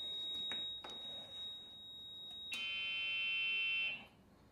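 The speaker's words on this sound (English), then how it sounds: "I have the multimeter on continuity. So once I turn this on, we have continuity." A multimeter set to continuity, probing golf cart wiring after a lithium battery conversion, gives a loud steady electronic beep of about a second and a half, preceded by a fainter tone and small handling knocks.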